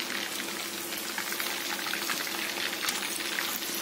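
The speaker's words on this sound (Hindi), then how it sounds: "मीडियम फ्लेम पे हम इसे फ्राई करेंगे।" Chicken pieces fry in oil in a pan over a medium flame, giving a steady, dense crackling sizzle with fine popping bubbles that holds at an even, fairly loud level throughout, close up and without talk.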